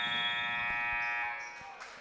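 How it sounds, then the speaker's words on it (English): A long, loud electronic buzzer blares at the end of a quarter in a high school basketball game between La Salette and Attica, sustained for over a second before fading into gym noise. "the buzzer goes off before he can put it in"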